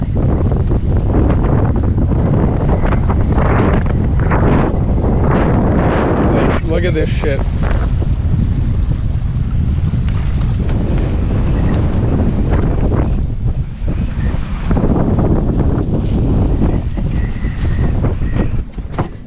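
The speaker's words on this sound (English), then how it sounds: "This is the waves in the anchorage" Strong wind and rough waves at a sailboat anchorage in Mexico make a loud, constant roar with heavy gusts buffeting the microphone. A voice speaks briefly.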